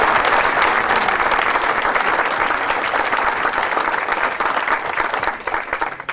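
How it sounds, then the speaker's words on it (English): Banquet audience at a police and firefighters appreciation night gives a loud, close round of applause for an honoree, dense clapping filling the room for about six seconds before trailing off. "if we can give a round of applause to Bob Polson"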